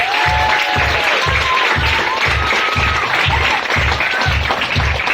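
Audience clapping after a school stage show, a dense sustained round of applause with a steady pulsing rhythm of music or stomping beneath, and a few whistles or cheers rising over the crowd noise.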